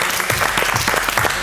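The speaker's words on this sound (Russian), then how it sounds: "Аплодисменты мужчинам!" A studio audience claps for the male contestants after a photographers-versus-models game show round, a dense burst of close applause with no talk over it.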